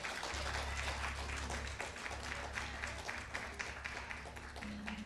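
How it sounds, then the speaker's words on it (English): Dense applause from a church congregation, steady broadband clapping close by, with a low sustained organ-like tone underneath. "give the Lord a hand clap of praise"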